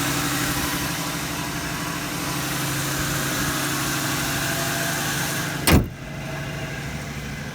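An Oldsmobile engine idling in a shop, a close, steady low rumble with a slight uneven lope, broken by one short loud burst before settling back to an even idle.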